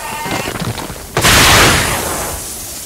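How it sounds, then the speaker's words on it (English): White-hot volcanic steam bursts from the ground in a sudden loud blast that becomes a sustained broad hiss, following quieter rumbling. "Jets of white-hot steam bring the hunt to a sudden end."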